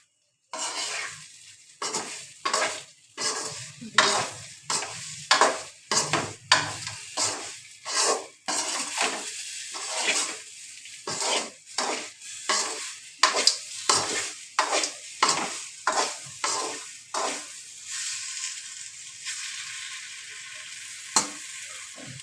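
Food frying on high flame in a pan, stirred vigorously with a spatula: repeated close scraping strokes in a steady rhythm over a continuous sizzle, fading to quieter sizzling at the end.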